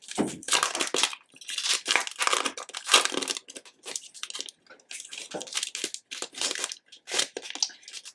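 Plastic packaging of a sticker kit is tugged and torn at in repeated crinkly bursts, loud and close, with short pauses between struggles against a tight seal.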